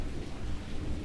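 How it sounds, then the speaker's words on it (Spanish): Rain falling with rumbling thunder in an autumn vegetable garden, a steady dense low roar without pauses. "Este hermoso sonido de la lluvia y de los truenos"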